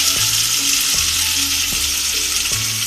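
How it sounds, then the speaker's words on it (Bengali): Ginger and garlic paste fry loudly in a pan with onions, giving a dense, close sizzle that never lets up and is punctuated by regular knocks of a spoon stirring. "আমি এগুলোকে ভেজে নিব যাতে করে আদা রসুনের গন্ধটা চলে যায়।"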